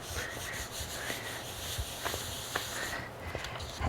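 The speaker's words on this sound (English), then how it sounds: "you can use your hands to rub across the pad" Hands rub paper across a monoprint pad to lift off paint, a soft continuous close-up rubbing and swishing with small taps and scuffs throughout.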